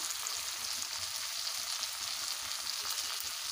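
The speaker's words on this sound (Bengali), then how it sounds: "এবারে ভালোভাবে কষবো।" Tomatoes with Kashmiri chilli powder, cumin, ginger and dried chilli paste fry in oil in a pan, giving a steady, dense sizzle that runs evenly throughout, close and alone with no voices.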